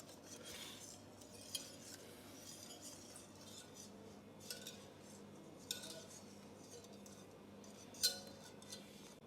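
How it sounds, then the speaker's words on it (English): Caramel sauce stirred into apple juice for a homemade caramel apple spice drink, a spoon faintly clinking against the glass or cup several times over a quiet kitchen background, with no talking. "we mix it with the apple juice."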